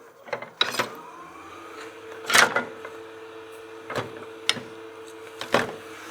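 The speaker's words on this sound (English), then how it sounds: "I'm going to shear scrape that to try and get rid of that." A shear scraper works across torn grain on a turned wooden bowl, giving a few separate short scraping strokes with quiet gaps between them. The lathe hums steadily underneath.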